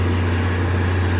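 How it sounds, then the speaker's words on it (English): Steady, loud low rumble of an idling vehicle exhaust close by, a constant drone with no breaks throughout. "Man, that exhaust is loud."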